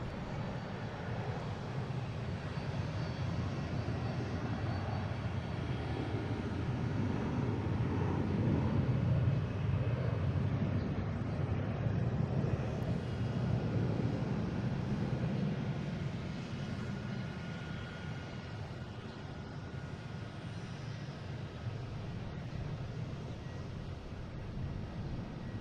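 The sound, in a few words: Delta Airbus A321 taking off for Atlanta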